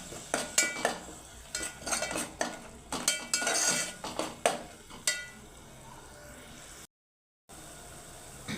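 Ginger paste being sautéed for chana masala in a pan, with a spatula scraping and clinking against the metal in quick irregular strokes, fairly quiet and close, no talking.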